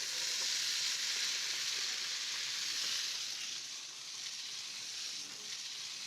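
Brussels sprouts and onion with a little salt sizzle steadily in a frying pan, a soft, continuous hiss with no talking.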